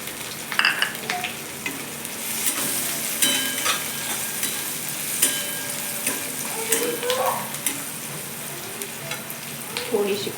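Chillies and turmeric sizzle in a frying pan for kanda poha, a steady close crackle broken by stirring scrapes and light clatter, with no one talking over it.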